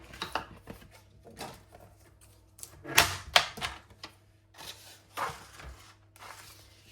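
Paper strips for a handmade card cut with a trimmer or blade, a few crisp slicing swishes and soft thuds, close and fairly quiet with no talking.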